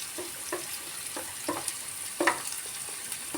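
Onion fries in a pan for egg bhurji, a soft, constant sizzle broken by intermittent knocks and scrapes of a spatula stirring close by.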